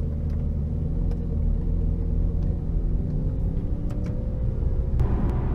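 A 2011 Ferrari 458 Italia pulls away in first gear under light throttle: a steady, deep engine rumble heard from inside, rising slightly in pitch toward the end.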